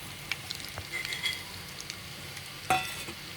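Panch phoron and dried red chili crackle in hot oil in a kadai, a soft continuous sizzle with scattered pops and one sharper spatter near the end, fairly quiet and close.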